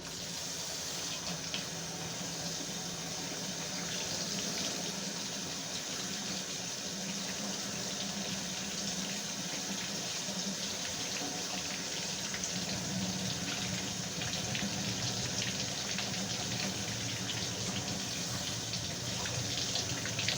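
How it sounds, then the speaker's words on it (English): Steady stream of tap water pouring into a sink while a fork is rinsed, a continuous close hiss and splash with small clinks and shifts in flow throughout. "Just washing this fork here quickly."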